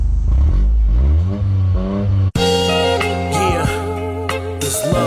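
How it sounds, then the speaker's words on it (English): A 2024 Toyota GR Corolla engine revs with rising and falling pitch sweeps, close and loud, for about two seconds before music abruptly takes over. "Let me get a little rev."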